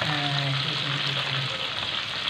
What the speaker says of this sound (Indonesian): Itulah kejadiannya ayam goreng kita dalam masak dah ni.